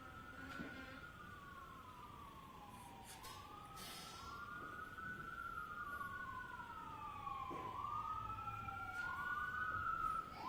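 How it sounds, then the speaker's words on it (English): Sirens pass outside a courtroom during a murder trial, a police-style wail sweeping up and down in repeated cycles, moderately distant and growing slightly louder, with faint room noise and a few knocks underneath. "wait until the sirens pass"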